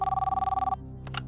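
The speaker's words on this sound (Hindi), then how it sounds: "कंप्यूटर जी, दयाराम जी को फोन लगाया जाए" A telephone rings in a steady, rapid electronic trill for under a second during a televised quiz show call, then stops, leaving quiet room tone and a couple of faint clicks.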